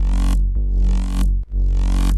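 A synthesized bassline from a music production session pulses in three long, loud, deep sustained notes with brief dips between them, alone with no talking.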